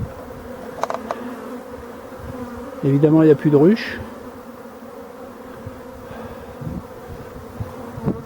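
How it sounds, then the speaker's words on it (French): Forager honeybees fly back into a hive of a drone-laying colony whose queen is lost, giving a steady close buzzing hum throughout, with a short louder burst of buzzing midway. One voice speaks briefly. "Alors ça, c'est les butineuses qui rentrent"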